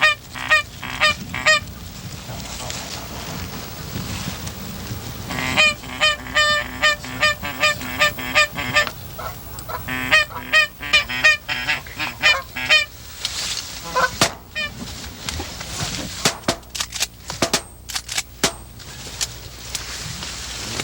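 Geese flying over a prairie honk repeatedly in loud overlapping bursts, a near, irregular chorus of calls that rises and thins across the scene.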